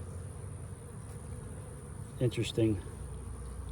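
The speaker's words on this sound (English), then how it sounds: "I got quite a few bees that are just kind of stuck in the hole there" Honeybees buzz steadily around a hive frame where several bees are stuck head-first in the comb cells, a close, continuous drone with a person briefly speaking over it.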